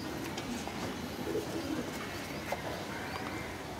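Soft coos of breeder pigeons sit low in a steady wash of background noise, a few brief calls scattered across the clip.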